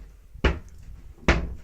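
Two kitchen cabinet doors are pushed shut in a premium fitted kitchen. Each gives a sharp, close wooden clap about a second apart, with quiet room tone between.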